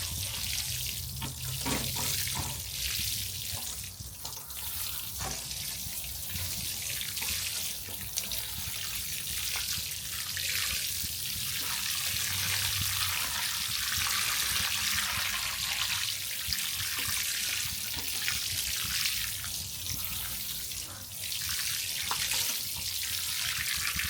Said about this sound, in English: we're going to go ahead and water it in